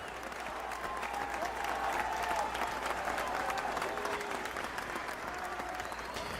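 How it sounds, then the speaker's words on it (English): Game crowd audio built in Wwise and played through Unreal, a broad continuous roar of cheering from a large crowd with a faint rhythmic chant inside it, steady and fairly distant throughout. "now you can hear the cheering, like the actual cheering. And the chanting"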